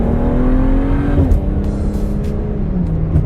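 A car revs and accelerates hard on a street, loud and close, with a steady engine drone that shifts pitch partway through as it pulls away without pause.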